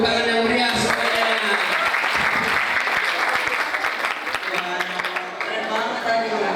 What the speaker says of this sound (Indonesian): Beri tepuk tangan yang meriah semuanya.